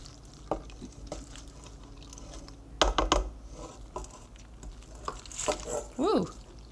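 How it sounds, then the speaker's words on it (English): Pasta and chard being stirred into a white cheddar cheese sauce: intermittent soft, wet scraping strokes, with a few louder bursts in the middle and near the end. "this is why you undercook your brown rice or your quinoa pasta, so you can stir it around like this"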